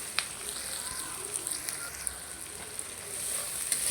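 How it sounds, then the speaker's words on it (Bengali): Sliced onion and green chilies fry with salt in a pan, giving a soft, steady sizzle with scattered small crackles and pops, heard up close. A voice talks at moments over the frying. "একটু পেঁয়াজ আর কাঁচামরিচটা ভালো করে ভেজে নেবো"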